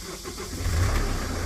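An old diesel car engine cranks and catches using an emergency start button, rising into a loud, close, low rumble after a brief quieter lead-in.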